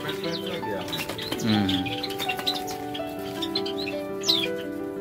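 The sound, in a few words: small birds chirping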